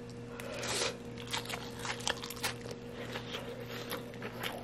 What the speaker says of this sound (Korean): 이 바삭거림 보여드리겠습니다